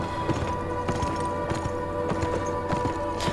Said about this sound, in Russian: Ребята, на лошадке здорово скакать.